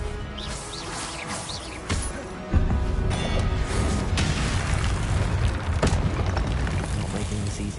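A fiery blasting spell erupts in a video game with a heavy low boom and crackling debris, followed by sustained rumbling and scattered impacts under game ambience.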